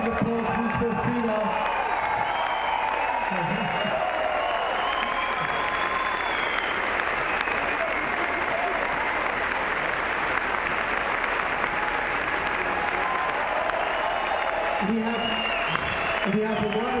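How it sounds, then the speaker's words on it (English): A large festival awards audience claps as a presenter comes on stage, loud sustained applause with scattered cheers and whoops, and a voice breaks in briefly near the start and again at the end. "Big applause, please, for Frida."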